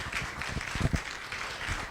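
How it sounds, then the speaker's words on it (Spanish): A church congregation claps in applause, a dense, steady patter of many hands at moderate distance that swells briefly in the middle. No talking is heard over it. "Póngase de pie, dele un aplauso a Cristo Jesús."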